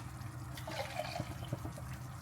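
Water poured into emptied tomato cans while cooking lamb shanks, a close liquid trickle and splash with irregular gurgles, no talk.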